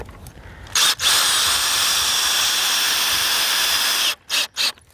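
A power drill drives a screw into a wooden fence post outdoors, one loud steady whine of about three seconds, then several short trigger bursts at the end.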